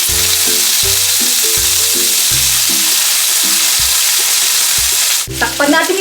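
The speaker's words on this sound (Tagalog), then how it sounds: "Since mainit ng ating cooking oil, maglalagay na tayo. Pipirituin lang natin sila ng bahagya." Squid frying in hot cooking oil, a loud continuous sizzle under background music, with a sharp burst of spattering near the end.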